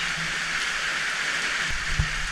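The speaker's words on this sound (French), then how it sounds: "Regardez la pluie." Steady rain falling on Réunion Island, a dense even hiss of drops close by with a couple of faint low thumps, no talking.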